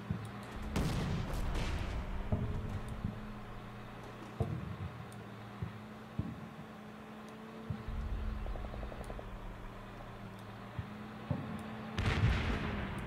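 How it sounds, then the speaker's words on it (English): Rocket-propelled grenades fired at an M1 Abrams tank in the Combat Mission: Shock Force war game, heard as scattered thuds and bangs at irregular intervals over a steady low rumble, with a louder burst near the start and another near the end. "somebody's shooting RPGs at that Abrams"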